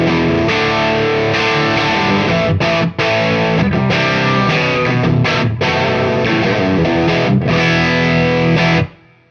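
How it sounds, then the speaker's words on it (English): A Fender Deluxe Reverb amp turned up near 10, driven hard by an electric guitar for a dirty, slightly flubby tone; loud distorted chords ring close with a couple of brief choked gaps, then stop abruptly, with no talking. "Right now, I have my deluxe reverb pretty much on 10, so it's pretty dirty."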